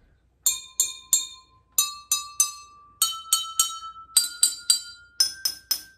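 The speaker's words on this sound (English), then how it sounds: "if your xylophone does not sound exactly like that" Glasses filled with differing amounts of water, played as a homemade xylophone: five runs of three bright ringing strikes each, every run at a slightly higher pitch, clear and close with no talk.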